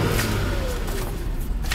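Supercharged V8 of a 2000 Jaguar XJR sports sedan on the road, a steady low engine and road rumble with a faint rising tone, continuous and close throughout.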